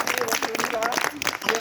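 Brief applause from an audience following a child's poem recital at a school gathering, quick dense clapping with voices mixed in.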